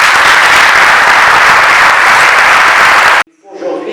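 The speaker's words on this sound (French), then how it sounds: "j'aimerais bien qu'on l'applaudisse fortement d'être venu à Meknès" A conference audience at a Moroccan-German meeting in Meknès breaks into loud, dense, sustained applause that stops abruptly, after which a voice begins speaking.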